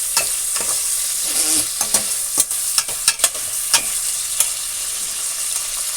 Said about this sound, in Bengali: একটু পেঁয়াজটা হালকা করে ভেজে নেবো